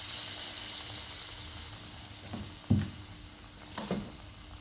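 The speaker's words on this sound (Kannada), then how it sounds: "ಈಗ ಒಂದೊಂದು ಉಂಡೆನ ಈ ಕಲಸಿರೋ ಬ್ಯಾಟ್ರಲ್ಲಿ ಹಿಂಗೆ ಡಿಪ್ ಮಾಡಬೇಕು, ಕಾದಿರೋ ಎಣ್ಣೆಯಲ್ಲಿ ಬಿಡಬೇಕು" Batter-dipped sugunda balls frying in hot oil, a soft steady sizzle with a couple of brief louder bubbling bursts as pieces drop in, fairly faint and close.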